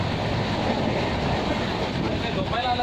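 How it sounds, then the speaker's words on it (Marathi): Inside a fast-moving train coach, a steady broadband rumble and rushing roar hold at an even level throughout, with no clear rhythm breaking through. "एवढी ट्रेन फास्ट चालत होती."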